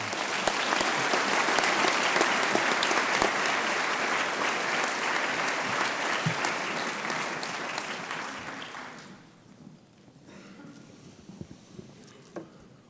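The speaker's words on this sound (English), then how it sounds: "Let's have a round of applause." An audience at a 2018 scholarship reception breaks into loud, sustained applause that fills the room, then thins out to a few scattered claps near the end.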